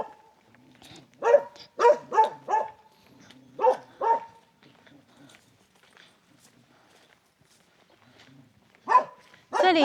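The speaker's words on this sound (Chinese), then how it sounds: "這裡養了好幾隻狗啊！" Dogs at a remote mountain-top home bark in quick bursts of two or three, close by and loud, separated by quiet pauses, with another burst at the end.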